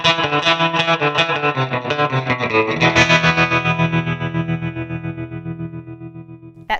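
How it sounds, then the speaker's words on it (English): Clean electric guitar through a Fender Mustang GT amp on a surf preset, strummed chords with a pulsing vintage tremolo wobbling the volume steadily, ringing out and fading over the last seconds with no talking. "That surf preset sounds great"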